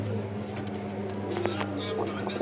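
Rajshahi flying pigeons, a pair of high-flying breed birds kept with others nesting on eggs, give soft low coos under a steady background hum, with a few sharper sounds scattered through.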